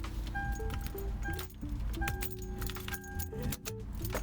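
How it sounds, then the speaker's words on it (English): Car keys jangle and clink in several short bursts beside a 4th gen Toyota 4Runner, close and fairly quiet, with brief pauses between the rattles and no talking. "So, grab the keys,"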